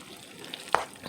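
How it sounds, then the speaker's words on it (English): Macaroni and cheese is stirred in a hot pan, a soft sizzle with a faint scrape of the spoon and one brief sharper clack, heard close and quiet. "now we're going to start stirring this around"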